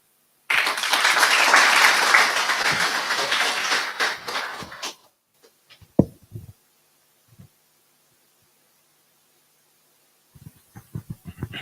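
Audience at a scientific rescue medicine symposium bursting into loud, dense applause for about four seconds before it fades, followed by quiet, a few scattered claps and some brief noises near the end.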